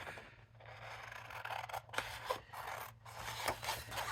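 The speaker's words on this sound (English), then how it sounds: "So what I'm going to do is just roughly cut this one out." Scissors roughly cut an image out of a sheet of paper, faint close snipping and rustling strokes repeating irregularly, with no voices.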